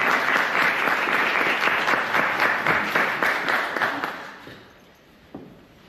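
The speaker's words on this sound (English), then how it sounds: "Please give a glorious round of applause." A Toastmasters meeting audience gives a round of applause, dense clapping that runs steadily for about four seconds before fading out, with one last stray clap near the end.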